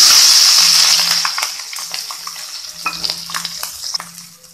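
Mustard seeds splutter and crackle in hot oil while a rasam tempering is made, starting as a loud dense sizzle that eases off, with light stirring scrapes and scattered pops.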